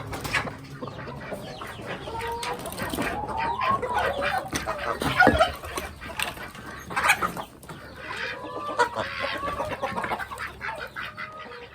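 A flock of laying hens clucks and murmurs continuously nearby as corn is thrown out, with overlapping calls rising and falling and occasional louder squawks.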